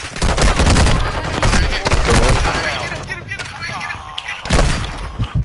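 Sustained video game gunfire with overlapping automatic bursts and heavier booming impacts, loud and close throughout, easing briefly before another strong burst near the end.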